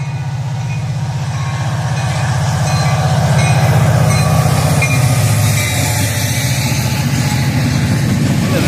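A southbound train passes close by in the evening, its heavy, steady rumble and rolling wagon noise swelling in the middle and holding strong throughout, with faint metallic wheel squeal riding over the top and no talking.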